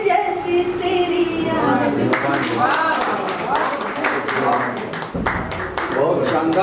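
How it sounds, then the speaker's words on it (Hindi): Audience clapping at a Hindi poetry recital: a steady wash of many hands clapping through the whole stretch, with brief sharper bursts and a short dip near the end. "एक बार पुनः जोरदार तालियों से"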